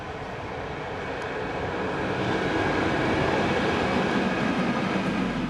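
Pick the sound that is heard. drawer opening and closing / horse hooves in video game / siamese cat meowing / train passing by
train passing by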